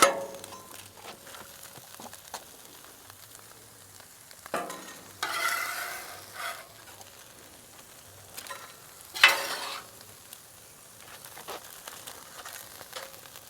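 Ground beef sizzles on a Blackstone flat-top griddle for nachos, a steady low fry broken by a couple of louder bursts as the meat hits the hot surface and gets scraped around, with no talking.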